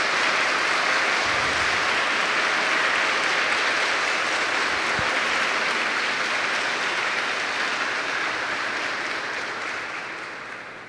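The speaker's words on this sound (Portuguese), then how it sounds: "Nosso carinho agora expresso numa salva de palmas bem forte para o seu Antônio" Strong, sustained round of applause from a church congregation during a Mass homily, dense steady clapping filling the whole stretch and easing slightly toward the end.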